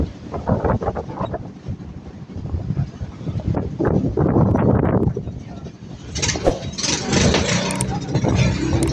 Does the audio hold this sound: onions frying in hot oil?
no